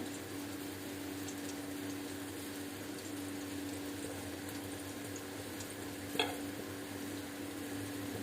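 Battered chilli chicken sizzles steadily in hot oil in a pan, a constant soft frying hiss with one brief clink partway through and no talking.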